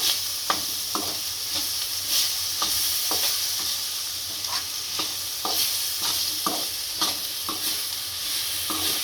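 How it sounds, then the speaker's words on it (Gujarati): Chopped tomatoes sizzle in a pan over fried onions for a dhaba-style kaju masala. Spoon strokes scrape and clack at a steady rhythm through a constant close frying hiss, with no talking. "હવે આપણા કાંદા સડી ગયા છે, હવે ટમેટા નાખશું। આને શેરવી લઈશું।"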